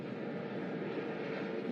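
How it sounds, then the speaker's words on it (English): A helicopter flies overhead at a baseball game with a steady, broad engine roar, fairly loud and even, with no talking over it. "Got a flyover by a helicopter."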